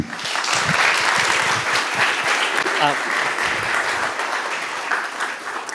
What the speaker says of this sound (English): a big applause for Estelle.